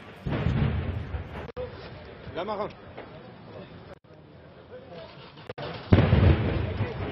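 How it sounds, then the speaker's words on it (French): Sharp bangs of gunfire ring out at intervals during a police assault on a hostage-taking in Essonne, amid a noisy scene, with people talking and a crowd murmuring throughout. "On entend des coups de feu."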